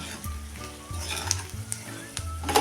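Garlic pickle being stirred in a hot pan with turmeric and chili powder, with a steady sizzle and repeated scraping strokes of the spoon, close and moderately loud, no talking.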